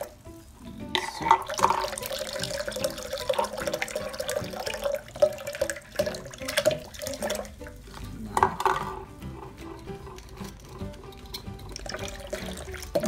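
Boric acid water poured from small containers into an inflatable pool for a giant 17 kg slime, a steady liquid splashing and trickling with clinks of containers and handling noises throughout, fairly close, with no talk.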